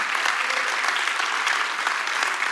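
Steady, dense applause from a church congregation fills the room, praising a guest speaker during a worship service, loud and unbroken with no voice over it.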